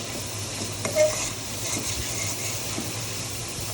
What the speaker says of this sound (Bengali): আমার মশলাটা কষানো হয়ে গেছে, তেলটা উঠে গেছে